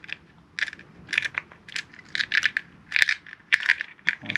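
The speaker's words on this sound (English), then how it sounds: "Now to install the new extended mag release, we're going to follow the same steps." Extended magazine release being fitted into a pistol, heard as a close series of small sharp metallic clicks and ticks in irregular bursts, fairly quiet and with no voices.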